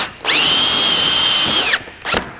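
A power drill drives a screw to fix a board to the back of a beam on a long-span workbench: one loud, steady motor whine of about a second and a half, then a short second burst.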